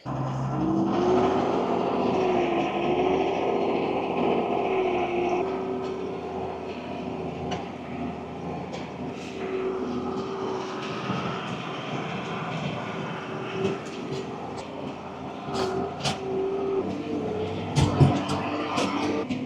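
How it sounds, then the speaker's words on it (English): A steady tractor engine drones close by for the whole stretch, with a rising and falling tone and a few clanks and knocks near the end. "now I'm gonna jump in the tractor now and pull"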